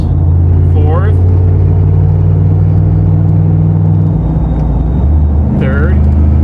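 A 1997 Ford Mustang GT with a 5-speed manual drones steadily while driving, a loud low engine hum whose pitch shifts around a gear change midway, with brief voices heard over it.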